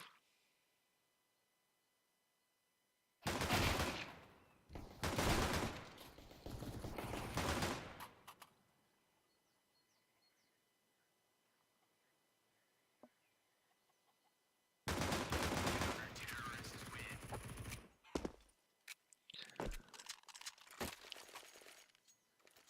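Submachine guns fire in a tactical shooter video game, loud rapid bursts stretching several seconds, then a quiet gap with faint clicks before another long stretch of sustained gunfire.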